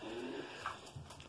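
Racing pigeons coo in a loft, soft low throaty calls close by against a faint background hum, with a brief higher chirp partway through.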